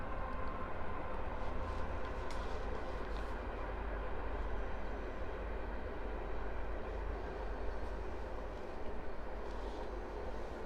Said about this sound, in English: let's give the train a moment to pass by.